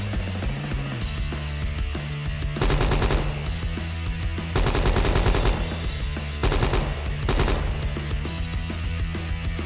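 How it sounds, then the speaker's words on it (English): Full-auto assault rifle fire in a video game, with loud sustained bursts of rapid shots separated by short pauses and a steady game background between them. "Switching to full automatic fire."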